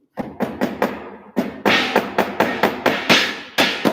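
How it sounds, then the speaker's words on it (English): Steady hammering: a run of sharp, loud metallic blows at a regular pace, close by, with no talking. "I'm gonna hold it and you hammer."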